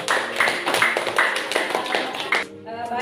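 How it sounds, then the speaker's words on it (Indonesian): Classroom applause for three student groups, quick uneven hand claps from pupils close by for about two and a half seconds before fading into quiet room tone and faint voices. "kita beri tepuk tangan untuk ketiga kelompok."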